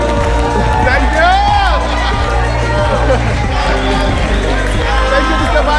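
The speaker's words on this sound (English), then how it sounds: "Give yourselves a big round of applause." Audience at a stage performance breaks into applause and cheering, a dense continuous wash of clapping and voices over loud music, steady throughout with excited shouts rising above the crowd.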